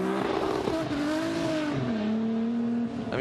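A Formula Drift car at Road Atlanta held on the throttle and bouncing off the rev limiter, a loud nearby high engine whine wavering in pitch with tire noise.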